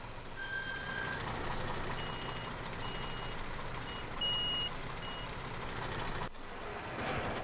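Reversing beeps from a loader in Construction Simulator 2015 sound over a steady, loud engine rumble, with a few short tonal beeps spread across the stretch.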